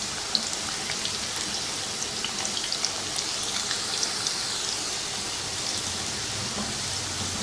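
Potato pieces sizzle steadily in hot oil for aloo salan, a continuous crackling hiss with tiny pops, even and close throughout.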